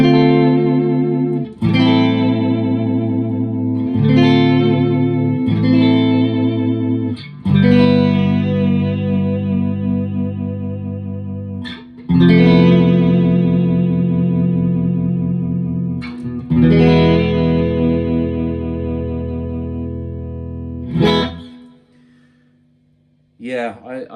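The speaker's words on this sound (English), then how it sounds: "this guitar shines for these super clean sounds" A G&L USA Doheny electric guitar played clean, with sustained chords and picked notes that ring out in phrases with short breaks between them, loud and close, with a touch of chorus-like shimmer and some reverb.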